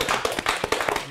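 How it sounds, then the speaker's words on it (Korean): A church congregation at a Korean Baptist sermon gives a short burst of hand clapping, close and fairly loud, with quick irregular claps. "박수 한번 보내주세요."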